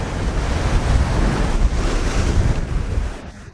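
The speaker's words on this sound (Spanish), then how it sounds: "Estas son pequeñas rocas donde rompen las olas." Sea waves break on small rocks along the Yucatán coast near Cancún, a loud, continuous rushing wash with heavy wind noise, no talking, easing off at the very end.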